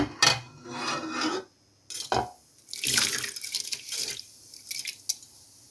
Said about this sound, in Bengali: এখন আমি চালগুলো দিয়ে দেব।